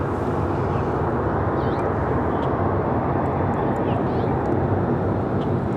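Brickyard flight 4629 taking off from runway 5 left at Raleigh-Durham International, a continuous broad jet roar, loud and steady throughout, with a voice talking over it.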